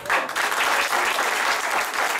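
A crowd applauds continuously at a magic show, dense clapping filling the room at a steady, fairly loud level.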